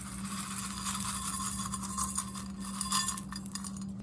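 Volcano rock sprinkled into a fabric pot while planting a bare-root Lapins cherry tree: a faint, steady gritty patter and clinking of small stones, with a low constant hum behind it and no talk.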